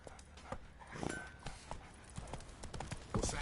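Horse hooves clip-clop in The Witcher 3, a steady trotting rhythm of close, moderately loud hoofbeats mixed with other game sounds.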